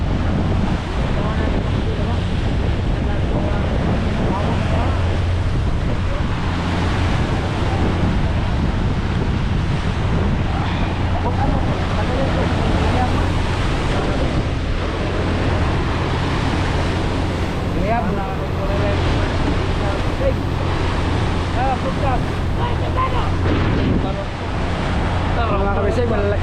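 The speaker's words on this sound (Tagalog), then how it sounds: "malalaki na ang alon mga kabisig" Loud, continuous roar of big ocean waves and surf mixed with heavy wind buffeting the microphone, with no clear talk.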